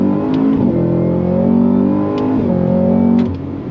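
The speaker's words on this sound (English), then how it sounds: "The sound of that V8 is glorious." A 2024 Cadillac CT5-V Blackwing's V8 engine revs hard under acceleration on an open road, loud and close, with rising engine pitch broken by quick gear shifts.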